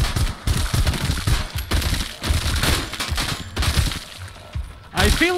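Shotgun and MP5 fire in the VR game Arizona Sunshine, rapid dense bursts of shots close and loud, with a player talking between them.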